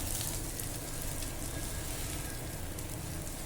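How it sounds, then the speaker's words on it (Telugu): Ivy gourd (dondakaya) sizzles and fries steadily in a pan, a continuous crackling hiss held at an even level throughout with no voices. "ఇలా చక్కగా వేయించుకోండి."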